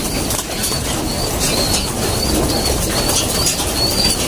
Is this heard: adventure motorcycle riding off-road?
no